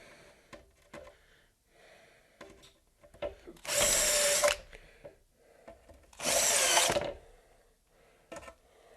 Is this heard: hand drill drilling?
yes